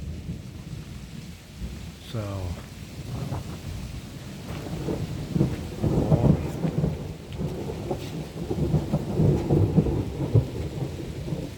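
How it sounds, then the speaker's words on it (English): Thunder rolls and rain falls on the Yucatan Peninsula, deep rumbles swelling and fading over a steady patter, with someone speaking briefly over the storm. "And yeah, there's the thunder."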